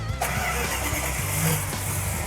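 A Plymouth Cuda's engine cranks and catches, then settles into a loud, rumbling idle with a throaty low-end burble close by.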